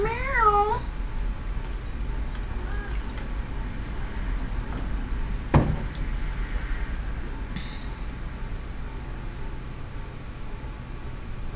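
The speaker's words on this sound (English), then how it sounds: "Meow." A cat gives one short, wavering meow near the start, then only a low steady hiss remains with a faint click in the middle.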